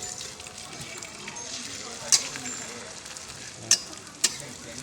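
Thai curry-paste omelette frying in a pan, a steady sizzle throughout with three sharp scrapes as a spatula lifts the egg.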